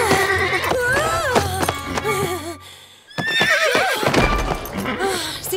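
Horse neighs and whinnies in a Playmobil cartoon farm-and-western scene, loud and close, repeated cries over music-like backing with clip-clop hooves, a brief gap near the middle before more whinnying returns.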